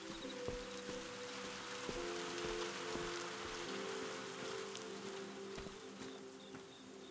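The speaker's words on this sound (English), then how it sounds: "Cool that like just this one section is raining, but the rest of it is not." Soft, steady rain patters and drips across one section of a video game area, faint and continuous, with a few light tonal hums underneath.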